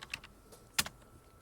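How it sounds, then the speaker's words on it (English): Computer keyboard typing during an online coding test run-through, a few sparse, faint key clicks with one sharper, louder press in the middle, no talking. "save myself some typing"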